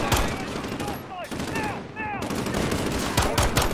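Video game gunfire from Call of Duty: Modern Warfare, with dense crackling shots and bursts under a busy game soundscape, with occasional whistling effects, fairly loud throughout.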